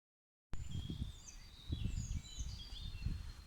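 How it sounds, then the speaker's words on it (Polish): Faint birdsong drifts through a quiet woodland in the Masuria region of Poland, thin high chirps and trills over soft low rustling and wind. "Słyszycie ptaki i prawie, że słychać wybuchającą zieleń."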